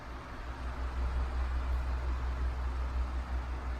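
A 1990s Canarm 12-inch oscillating fan runs steadily, giving off a continuous broadband whoosh of moving air with a low hum beneath, even and unbroken throughout.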